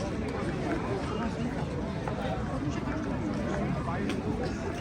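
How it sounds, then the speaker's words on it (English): Dense crowd babble from a busy Budapest tourist spot, many overlapping voices in a steady hubbub at close to mid distance with no single voice standing out. "Check out this crowd, actually."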